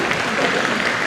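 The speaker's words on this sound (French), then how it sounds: "Allez hop, des applaudissements." Audience at a science-fiction festival award ceremony bursts into loud, dense, continuous applause, a thick steady roar of many hands with no pauses.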